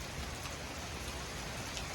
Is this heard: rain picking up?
yes